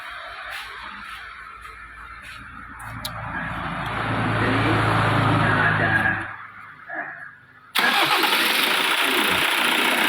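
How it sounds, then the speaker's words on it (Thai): A 2021 MG Extender D20 pickup's diesel engine cranks and strains near the microphone, dips briefly, then catches and settles into a loud, steady running roar. "เดี๋ยวสตาร์ทเครื่องครับ ลองดู"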